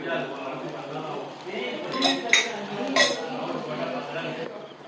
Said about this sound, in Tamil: இப்போ நம்ம இதை திருப்பி போட்டுடலாம், வந்துட்டு திருப்பி போட்டுடலாம்.